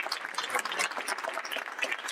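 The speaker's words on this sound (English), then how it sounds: "Ladies and gentlemen, please give a round of applause to Betty Kennedy." A festival audience at a salsa dance event claps in a brief, fairly faint burst of applause with steady patter throughout.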